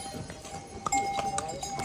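Horses walking the mountain path toward Kedarnath give a few scattered hoof clip-clops and light clinks, fairly quiet against a hissy outdoor background.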